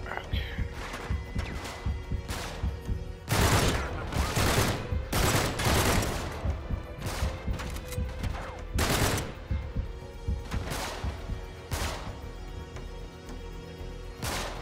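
Gunfire in the video game Uncharted 3: Drake's Deception comes as loud, repeated bursts of shots and heavy impacts throughout, with someone talking over the action.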